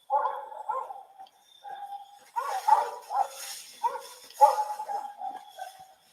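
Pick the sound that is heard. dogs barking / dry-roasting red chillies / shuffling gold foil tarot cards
dogs barking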